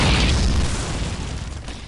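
Mortar explosions in the video game Call of Duty 2 make a loud, close, rumbling blast that rolls on and slowly fades.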